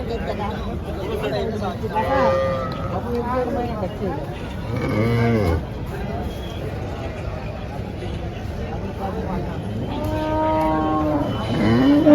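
Cows, including HF and Jersey cattle, moo several times at a busy cattle market, their low drawn-out calls rising over steady crowd chatter and talk nearby.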